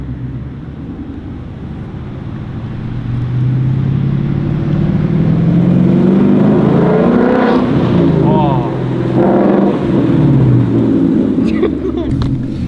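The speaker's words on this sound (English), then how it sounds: "That sounds like a Mustang" A 2021 Mustang GT with an X-pipe exhaust revs close by in a loud, sustained rumble that rises and falls through several swells. Voices talk over it.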